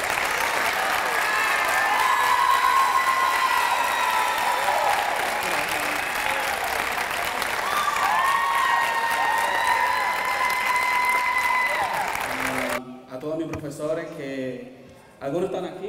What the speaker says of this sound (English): Let's welcome Luis Vasquez to the grand applause.